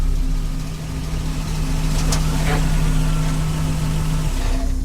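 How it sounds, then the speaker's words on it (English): A car engine hums steadily at night on a road, a low continuous drone with a faint tonal whine, fairly loud and close, gradually building with no voices. "The hum of an engine grew louder as it approached."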